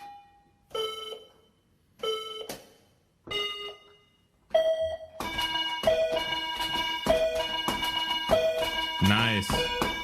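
Chinese calculator beeping out tones: a few separate melodic electronic chimes with pauses, then a continuous run of bright synthetic notes played in quick succession, fairly faint and with no talking.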